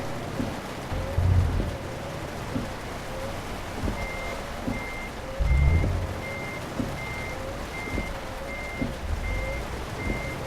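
Reversing beeps from a truck in Euro Truck Simulator 2 repeat in a steady, evenly spaced series over a continuous engine rumble, with occasional low thumps and a rain-like hiss in the background.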